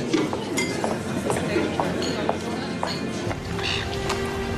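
Champagne glasses clink together in a toast to fifteen years: several light, sharp chinks scattered through a busy room, with voices talking around them.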